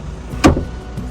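A rear seat folding down inside a GWM P300 pickup: one short, solid thunk of seat hardware against a quiet cabin, close and fairly loud.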